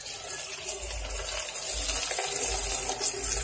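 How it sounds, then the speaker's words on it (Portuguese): Water gushes and splashes into a basin in a continuous, close rushing stream that grows slightly fuller toward the end. "A bacia com água, vamos."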